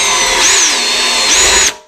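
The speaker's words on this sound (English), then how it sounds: "back again now with the drill and the attachment" A power drill with an attachment grinds gasket maker off a 2009 Jeep Grand Cherokee 4.7. It whines loud and close and holds steady, then cuts off abruptly near the end.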